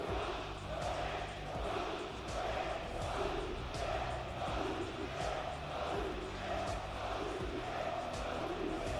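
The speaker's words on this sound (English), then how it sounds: "Bro, the crowd is crazy." A large French crowd in an esports arena roars and cheers continuously, with chant-like waves rising and falling and rhythmic thumps underneath, loud and sustained throughout.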